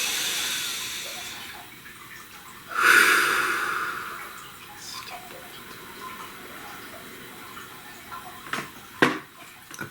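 A single deep, breathy inhalation about a third of the way through, loud and close, over a soft background hiss during a guided meditation, followed by a few faint clicks and no talking.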